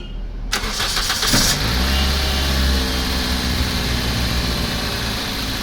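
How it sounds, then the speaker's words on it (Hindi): A car engine is cranked briefly and catches, then settles into a loud, steady idle close by, during a fuel pump current check. "चल भाई स्टार्ट कर गाड़ी।"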